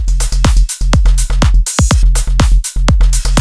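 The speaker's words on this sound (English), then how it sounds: "At this point, I prefer to create the beat of the track first." A punchy electronic drum beat with deep kick thumps and sharp hits repeating in a steady, loud pattern, with no voices.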